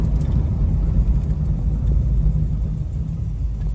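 A 1971 Dodge Super Bee V8 on a road test rumbles at part throttle, a deep, loud, continuous low-end growl with no voices over it.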